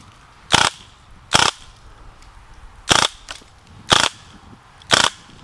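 An Umarex Steel Force 4.5mm steel BB gun set to full auto fires five sharp, loud, close pops spaced irregularly about a second apart over a quiet background.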